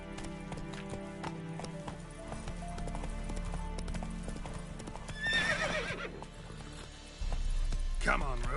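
Roach the horse galloping in The Witcher 3, rhythmic clip-clop hoofbeats running steadily throughout, with a sharp neigh midway and another toward the end, over a low game soundtrack.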